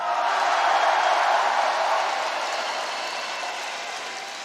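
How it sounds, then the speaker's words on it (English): A wrestling arena crowd in Greenville cheers and applauds in a loud, dense roar that fades slowly over a few seconds. "just to get that cheer that I just got there"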